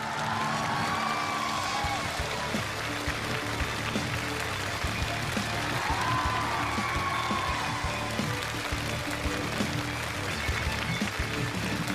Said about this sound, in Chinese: 再一次，用我们最热烈的掌声，有请挑战者夏伯渝